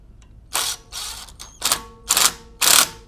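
Ratchet clicking in four short bursts while tightening brake rotor set screws on a 2007-2013 Acura MDX front brake job, crisp and close with brief pauses between.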